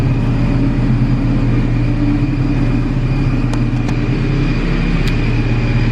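A car engine idles steadily after new suspension work, a constant low rumble close by with no talking.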